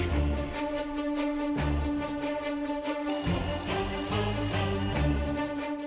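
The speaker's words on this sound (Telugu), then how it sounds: "బావగారు ఫోన్ లిఫ్ట్ చేయట్లేదు." Telephone ringing unanswered in a tense TV serial scene, a repeating electronic ring pattern with a higher bright tone joining midway, layered over dramatic background music.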